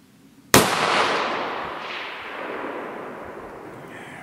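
A single sharp, loud crack from a BCM 11.5-inch rifle fired outdoors at a 320-yard target, followed by a long rolling echo that slowly fades.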